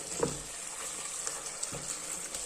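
Chicken curry with fresh coriander leaves is stirred in a pan over a steady, close sizzling hiss, with a few soft spoon scrapes and knocks breaking through.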